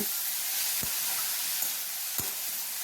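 Crushed cauliflower stalks frying in a pan give a steady, soft sizzle and hiss throughout, with a couple of faint stirring knocks and no talk.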